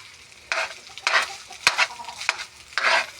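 Fried corn rice stirred in a pan over a sizzle, with several scraping sweeps of a utensil and a sharp clink, heard close with no talk.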